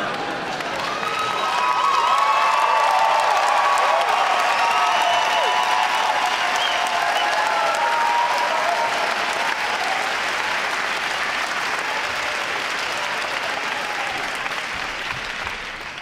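Sustained audience applause after a story, a full wash of clapping with some cheering and whoops mixed in, swelling quickly and holding steady before easing slightly toward the end.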